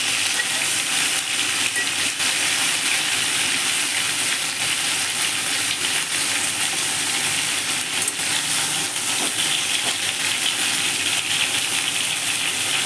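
Pointed gourd (potol) pieces frying in a small amount of oil in a pan, giving a steady, continuous close sizzle and crackle throughout, with no voices.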